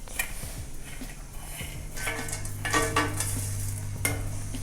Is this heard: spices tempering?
yes